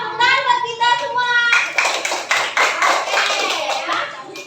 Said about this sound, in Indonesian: Belum kompak, tepuk tangan buat kita semua.